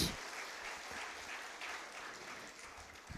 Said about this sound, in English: Can we please give her a warm round of applause again for that really informative message?